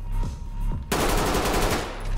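Automatic gunfire in the tactical shooter Ready or Not, a sudden loud sustained burst that starts a little under a second in and rattles on without pause over low background game sound.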